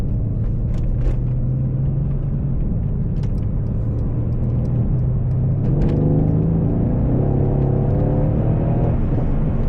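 A Mercedes-AMG C63 S sports car drones steadily from inside the cabin, its engine note rising and swelling as it accelerates midway through, with a continuous road rumble underneath.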